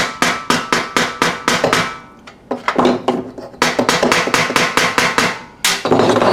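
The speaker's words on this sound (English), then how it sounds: "just tap it with the hammer to get it off, like what I'm doing" Sharp metallic taps from a hammer striking a flathead screwdriver on a Model 2 siren, in quick even runs of blows with a short pause partway through.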